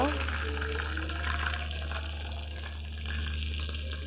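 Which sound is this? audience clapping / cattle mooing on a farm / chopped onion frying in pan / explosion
chopped onion frying in pan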